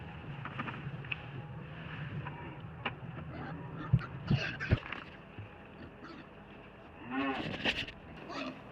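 Farm pigs squabbling over fine feed, with soft grunts, scuffling and a few sharp squeals and thumps up close, plus short louder bursts near the end and no clear talking.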